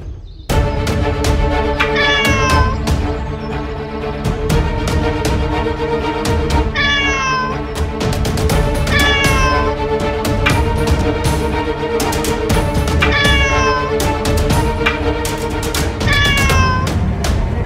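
A black cat being struck meows loudly and repeatedly, about six distressed, wavering cries spaced a few seconds apart over a continuous musical background.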